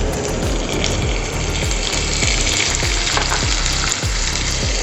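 Tomato puree and turmeric masala frying in oil, for a chitol fish mustard curry, giving a loud continuous close sizzle with rhythmic spatula scrapes and no voices.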